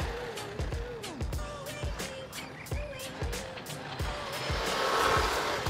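Bezgar HM124 brushless 1/12-scale RC buggy wearing a monster truck body, running on a 2S battery, its motor whining up and down in repeated bursts as it accelerates and passes close by outdoors.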